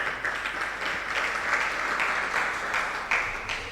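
An audience at a religious discourse breaks into steady applause, a dense sustained wash of clapping hands with slight swells, moderately close.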